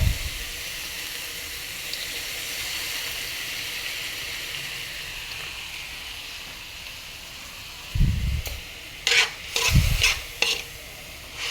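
Canton noodles stir-fried in a pan after soy sauce goes in, a steady close sizzle running throughout, then a few louder scraping stirs and clatters near the end.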